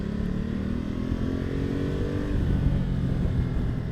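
Ducati Multistrada 1260S motorcycle engine droning steadily while riding, a continuous loud hum with slight rises in pitch as it pulls along, no talking over it.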